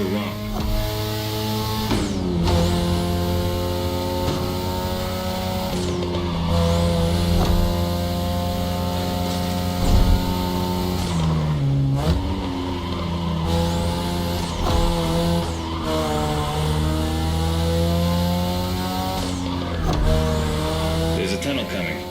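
Mazda RX-7 with a rotary engine racing in The Crew Motorfest, its high, buzzing engine note rising through the revs and dropping at several shifts, loud and steady throughout with brief tire noise.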